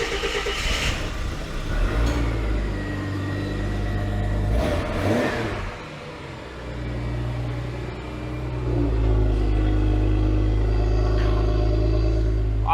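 A Ford Fairmont AU engine runs steadily, its idle rising into a revving surge near the middle and then holding at a louder, sustained level, with no voices.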